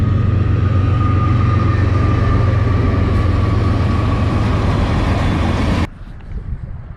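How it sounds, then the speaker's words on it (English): A train rolls past close by near a marsh fishing spot, a loud steady rumble with rhythmic wheel clatter and a faint high squeal for about six seconds before cutting off abruptly to quieter outdoor ambience. "Comes the train."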